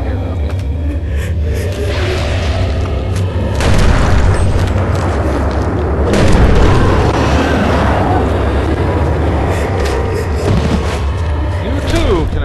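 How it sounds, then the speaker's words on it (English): Heavy booming grenade blasts in the horror video game Eternal Darkness, with deep rumbling explosions swelling repeatedly over a dense, continuous low roar of game sound. "You too can annihilate horrors with gigantic explosions of grenades."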